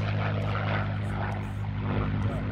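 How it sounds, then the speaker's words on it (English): Spitfire warbird MH434 droning past right to left at an airshow, a loud continuous propeller engine roar with steady low harmonics and no talk over it. "three-ship formation aerobatics to almost round off the Spitfire finale. But we do have MH434 right to left."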